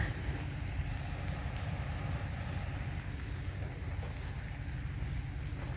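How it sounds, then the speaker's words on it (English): Steady, dense rain hisses without a break, a constant wash of noise with a low rumble beneath and no voices. "it is now beginning to rain"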